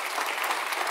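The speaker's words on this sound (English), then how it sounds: "please help me give a round of applause to my panel." Audience applause for a conference panel at a food industry event, a dense, steady wash of clapping from a full room that fills the whole short moment without a break.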